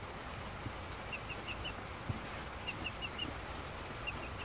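A pet chicken gives soft, repeated short clucks in small clusters, faint and somewhat distant over a quiet background hum.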